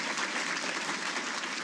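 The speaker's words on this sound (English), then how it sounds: "Please give them a round of applause." A crowd at a Hall of Fame ceremony bursts into brief, dense applause, a full continuous wash of clapping throughout.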